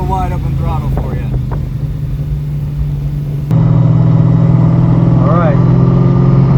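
A car engine at wide open throttle with the windows down, a steady droning roar that jumps louder partway through, with a voice talking over the first half.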